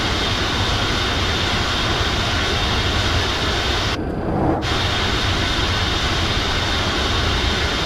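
Boeing 707-320C jet engines in Microsoft Flight Simulator 2024 give a steady, loud broadband roar that runs unbroken throughout, with only a brief dip partway through and no talking.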